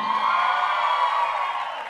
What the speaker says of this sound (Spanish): Aplauso para Servando